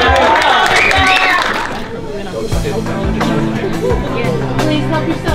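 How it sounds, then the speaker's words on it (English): An audience at a movie premiere applauds the host, a dense burst of clapping and cheering that gives way after about two seconds to crowd chatter and speech. "Give her a round of applause."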